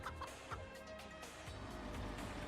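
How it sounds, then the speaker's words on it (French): Chicken clucking inside the video game Moving Out, a few short clucks over a dense, steady layer of game music and noise. "La poule est dedans."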